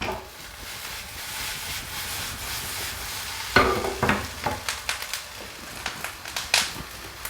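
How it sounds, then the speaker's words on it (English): Burgers and onions sauté in hot oil in a pan, giving a steady close sizzle. Sharp scraping and clacking stirring sounds come in bursts over it. "While we brown the onions, we can go ahead and start sauteing the burgers."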